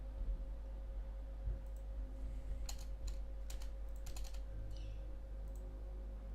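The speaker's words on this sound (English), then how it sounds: "Next thing I need to change is keyboards, because these are really loud" Loud computer keyboard being typed on, bursts of sharp clicking keystrokes in quick clusters over a steady low electrical hum.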